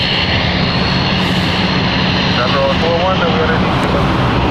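A Phenom business jet rolls along the runway at London City Airport, its engines a loud, constant roar that fills the whole stretch, with voices faintly underneath.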